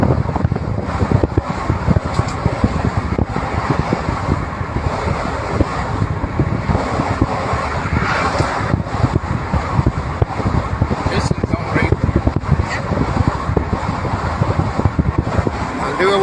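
Heavy coal trucks pulling double trailers laden with coal roll past in their lanes, a continuous loud roadway rumble mixed with strong wind buffeting the microphone, with someone talking over it.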